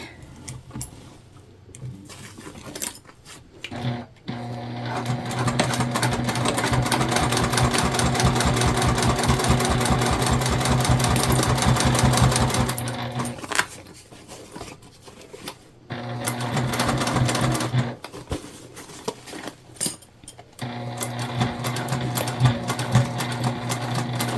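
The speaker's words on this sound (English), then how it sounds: "now we're just going to sew this together, closing up our turn hole completely" A sewing machine stitches a mini bag closed along its turn hole, running in long steady bursts of rapid needle chatter broken by short pauses, close and clear with no talk.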